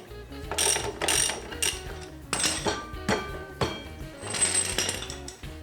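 Ratcheting clicks and metallic turns come in several short bursts as chain tensioners are adjusted on a Kawasaki KZ750 motorcycle, close up, with brief pauses between bursts.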